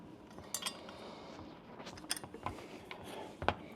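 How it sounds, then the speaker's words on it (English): A wrench tightening M6 bolts on a reel mount gives quiet, scattered metallic clinks and ticks, a few sharper taps standing out against a low, hushed background. "using a number 10 wrench, let's tighten these up"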